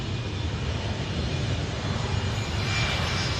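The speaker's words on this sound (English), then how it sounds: "757 coming in all the way from Mexico" Boeing 757 jet arriving from Mexico at night, a steady low engine rumble heard at a distance, faint and unbroken for a few seconds with no voices.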